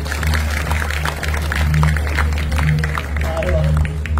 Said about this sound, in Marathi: नारीसाठी जोरदार टाळ्या